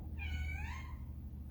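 A single faint cat meow, a short rising-then-falling cry from a cat in an old church under restoration, heard alone over low background rumble.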